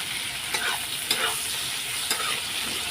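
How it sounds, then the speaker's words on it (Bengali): Chopped onion frying in a kadai, an even close sizzle with a few light stirring knocks spaced through it and no talking. "এই যে পেঁয়াজটা ভাজা বসিয়ে দিলাম"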